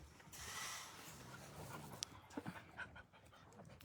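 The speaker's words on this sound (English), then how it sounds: "So the dogs are playing." Dogs play close by, panting steadily with small whimpers and brief scuffling bursts, no voices present.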